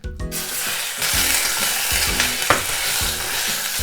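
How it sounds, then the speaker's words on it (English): Steady loud sizzling of beef searing in a hot pot for nikujaga, with occasional scrapes of stirring and no talking. "So once the pan is heated, I'm going to put in the beef."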